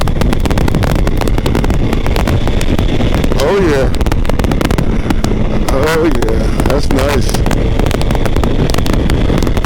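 A cruiser motorcycle rumbles steadily in third gear while riding, its engine drone mixed with heavy wind buffeting throughout, and a rider's voice talks briefly over the noise.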